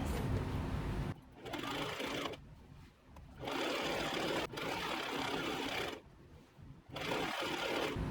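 A sewing machine runs in several fast bursts with short pauses between them while gathering the fabric of a dress tier. Its whirring motor is steady and close.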